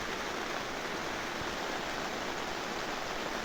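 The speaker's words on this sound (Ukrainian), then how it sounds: "Ось такий знову дощ у нас." Rain drumming on a greenhouse, a loud, dense, unbroken rushing hiss that fills the space evenly, with no voices heard.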